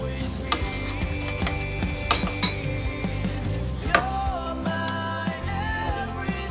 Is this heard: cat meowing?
no